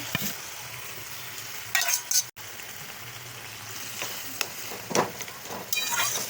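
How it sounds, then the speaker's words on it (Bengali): Raw prawns go into a hot pan for a tamarind red amaranth sour dish, setting off a loud frying sizzle with stirring clatter and a few sharp bursts, no talk. "বন্ধুরা এবার চিংড়ি মাছটা দিয়ে দিচ্ছি।"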